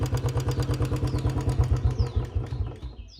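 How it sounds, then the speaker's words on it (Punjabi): A Royal Enfield Bullet BS6 motorcycle engine runs loudly close by, a steady rapid thumping rhythm with metallic clatter, alone without talk. "ਆਵਾਜ਼ ਇਹਦੀ ਵੱਧ ਗਈ ਇੰਜਣ ਦੀ, ਬੁਲਟ ਦੀ ਨਹੀਂ ਇੰਜਣ ਦੀ"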